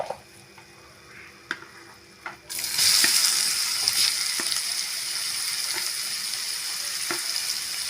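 Grated raw mango goes into a hot pan of thokku mixture and is stirred, with a few light clicks before a steady, fairly loud sizzle rises and continues without speech.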